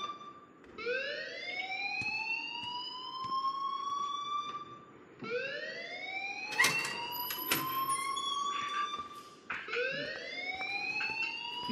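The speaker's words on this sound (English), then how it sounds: "please turn off that alarm since that's your job" A fire alarm in the Life Is Strange video game wails in repeated rising sweeps, each lasting several seconds, loud and continuous, with clatter and thuds mixed in.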